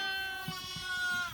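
A sheep bleats in a barn during a Canadian lambing season blizzard, one drawn-out wavering call heard up close, with faint shuffling noises underneath.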